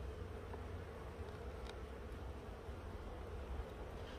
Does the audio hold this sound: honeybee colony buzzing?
yes